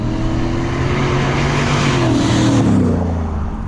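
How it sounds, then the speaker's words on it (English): A 770 whp Ford F-150 shop truck roars hard under throttle, a loud, continuous deep engine bellow layered with a rising turbo turbine whoosh as it pulls in air, no talking over it. "it sounds like 2 bears arguing through megaphones. But then it also has this turbine whoosh because you're just pulling in so much air."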